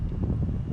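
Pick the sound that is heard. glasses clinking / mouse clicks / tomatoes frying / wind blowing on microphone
wind blowing on microphone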